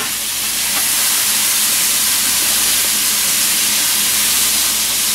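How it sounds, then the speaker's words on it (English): Garlic sautés in a hot pan over medium-high heat, a loud continuous hiss and sizzle close up that stays steady throughout without talk. "We're gonna saute it around until it gets a little pale"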